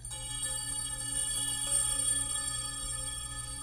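Sustained metallic ringing from the cattail-topped rods of a Sonambient sounding sculpture, many overlapping bright tones and a low hum, shimmering steadily for a few seconds, with no voices.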